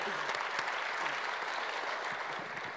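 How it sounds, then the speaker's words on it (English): An audience at a National Governors Association winter meeting applauds New York Governor Andrew Cuomo, a dense, even roar of clapping that holds steady and fades slightly near the end. "let's give our Dean another round of applause"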